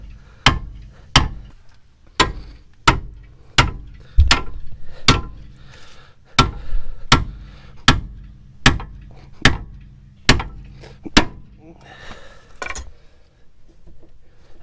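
Sledgehammer blows striking a ball joint on a Honda Ridgeline front suspension, about fifteen sharp metallic hits at a steady roughly one-per-second pace, loud and close with no talking.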